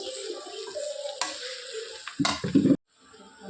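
A spiced eggplant curry is stirred in a pan with soft sizzling and a few loud scraping clatters of a spoon near the end, then a sudden stop.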